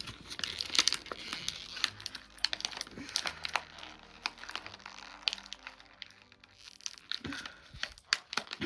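Plastic blister packaging with small pieces of tape around a 3.75-inch Star Wars action figure is pulled and torn open, giving irregular crinkling, crackling and tearing bursts close to the microphone.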